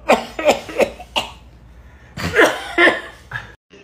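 A man coughs in a barbershop, giving a rapid run of three or four close, loud coughs, then a pause and another short burst, with a hint of laughter.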